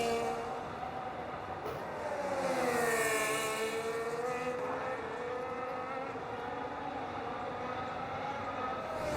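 Race car engines from a racing video game at Monza drone and rise in pitch with harmonic whine, a steady loud engine note with no talking.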